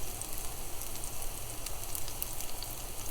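Plantain slices fry in hot oil in a skillet, a steady crackling sizzle with scattered pops, close and continuous without talk.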